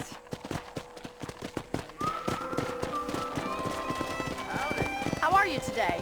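Steady clip-clop of horse hooves trotting at an even rhythm in the video game Red Dead Redemption, close and clear, with sustained musical tones rising behind them.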